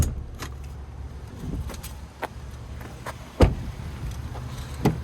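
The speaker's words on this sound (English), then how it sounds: "And you can hit this switch here actually, and that'll tumble the seats forward." Rear seats of a 2018 Buick Enclave Premium tumble forward, with a few sharp mechanical clunks and latch thumps standing out over a steady low interior rumble, the loudest one near the middle.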